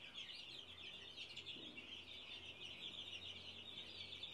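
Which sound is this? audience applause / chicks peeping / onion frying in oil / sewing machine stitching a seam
chicks peeping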